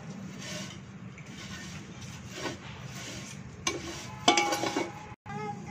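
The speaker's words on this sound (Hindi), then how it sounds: "अब हमने इन्हें मिक्स कर लेना और इन्हें फ्राई कर लेना अच्छे तरीके से" Vermicelli (seviyan) being stirred and fried in desi ghee in a pan, with a steady low scraping and rubbing of a spoon against the pan, a few sharper clinks and scrapes near the end, no talking.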